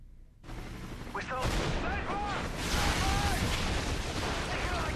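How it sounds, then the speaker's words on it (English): An RPG rocket launcher fires in Modern Warfare 3 with a sudden loud blast, followed by a sustained roar of explosion and battle noise, with a voice talking over it. "Just shot that guy with an RPG"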